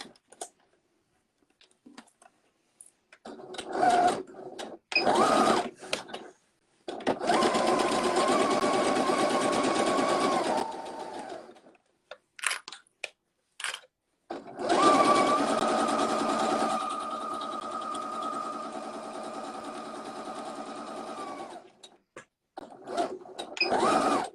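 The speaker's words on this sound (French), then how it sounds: "je vais coudre tout le long du fond, toujours à 1 cm du bord" A domestic sewing machine stitches a soft toy kit's bottom seam 1 cm from the fabric edge, running in two long close bursts with short pauses, handling clicks and brief stops between them.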